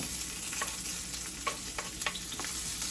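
Onions sauteing in bacon grease, a steady close sizzle with a few sharp scrapes of stirring scattered through, no voices.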